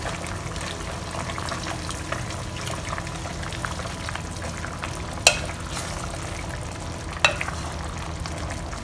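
Sesame oil chicken sauce in a pan being stirred, a continuous bubbling sizzle with scraping utensil strokes and two sharp clinks against the pan, no talking.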